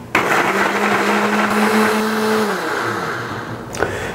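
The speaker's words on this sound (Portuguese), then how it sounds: "A gente vai emulsionar tudo isso aqui junto no liquidificador" A kitchen blender whirs steadily as it emulsifies lemon juice, water and lemon zest for a lemon mousse, its motor tone holding even and loud before winding down near the end.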